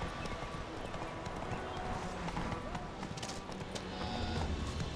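Roach, the horse in The Witcher 3 video game, clip-clops along in a steady running rhythm of hooves, with dense game ambience and music filling the background.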